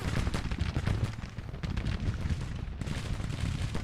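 Massed musket volleys from Civil War infantry in the Grand Tactician strategy game, a dense continuous crackle of gunfire with rolling battlefield rumble throughout, loud and sustained with no voices.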